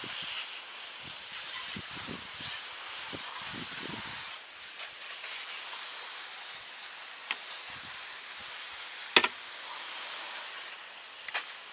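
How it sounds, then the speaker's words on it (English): Optimum No Rinse sprays from a pressurized sure shot bottle onto a car door in direct sunlight, a long steady hiss that lasts throughout, with faint thumps and a few sharp clicks along the way. No one speaks. "we spray all the panel, in this case all the door, with the sure shot"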